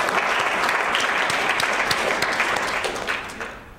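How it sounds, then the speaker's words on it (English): Applause from a conference audience, dense and continuous clapping heard close and loud, tapering slightly toward the end with no talk over it. "Come on, let's clap."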